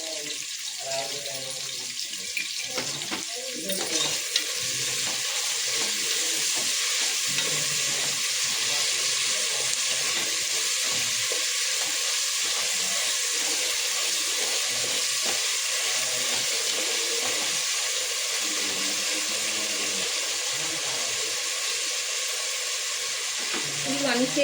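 Salted sliced onions for a pressure-cooker chicken biryani fry in hot oil with a loud, even hiss that runs unbroken throughout; a voice is heard briefly at the start.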